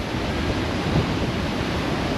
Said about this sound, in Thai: นี่คือทะเล